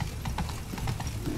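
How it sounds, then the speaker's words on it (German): Horse hooves clip-clop in a quick, even rhythm, close and clear, in the video game The Witcher 3: Wild Hunt. "Früh morgens fängt das Pferd an, sich zu melden."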